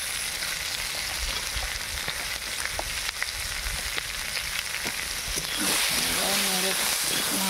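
Potato, pumpkin and long beans frying in a pan while being stirred, a continuous sizzle with scattered scraping ticks from the spoon, then a voice speaks briefly over the louder hiss at the end.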